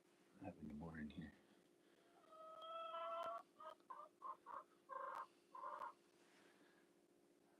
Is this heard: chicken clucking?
yes